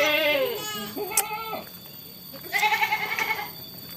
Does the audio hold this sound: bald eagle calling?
no